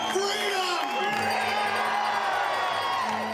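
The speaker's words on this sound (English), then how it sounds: "The crowd calling for an end to lockdowns" A crowd at a freedom protest march through a mall, calling for an end to lockdowns, shouts and cheers continuously at close range, with a steady roar of many voices and occasional louder whoops.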